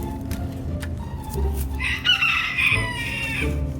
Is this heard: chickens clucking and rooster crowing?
yes